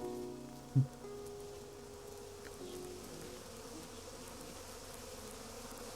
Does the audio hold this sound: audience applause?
no